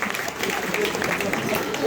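Applause from a crowd gathered for an Independence Day flag-hoisting camp celebration, a steady dense wash of clapping with voices mixed through it.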